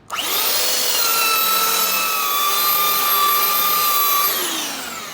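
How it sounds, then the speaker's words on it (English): A powered hand sander runs on wood, working with the grain, giving a steady, close, high whining buzz with strong tonal overtones that holds for several seconds before winding down. "Notice that I am sanding with the grain of the wood."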